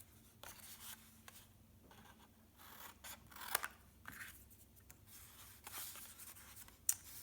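Scissors cut through a paper card with faint, close snips and soft slicing rubs at an irregular pace, plus a couple of sharper clicks, in a quiet room without voices.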